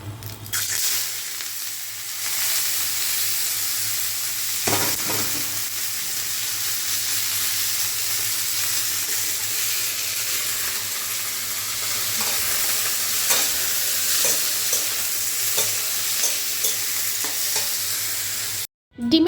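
Onion and tomato fry in oil in a wok, producing a loud, continuous sizzle and hiss for the whole stretch, with occasional stirring scrapes and a brief dropout near the end; no voices.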